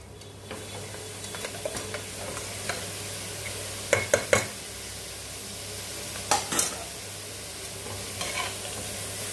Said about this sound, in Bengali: পুরো ঘি দিয়ে ভালো করে ভাজবো গাজরটাকে।